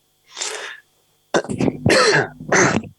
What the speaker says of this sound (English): Sorry, first cough, apologies.